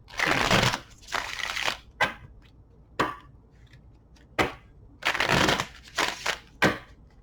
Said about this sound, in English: Let's get 3 shuffles for Leo collective reading